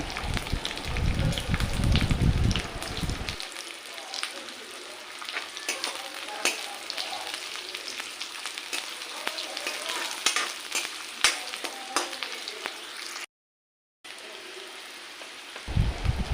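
Chopped green chillies sizzle and crackle steadily in a hot pan, a close, continuous frying hiss with occasional stirring scrapes and a brief silent gap near the end.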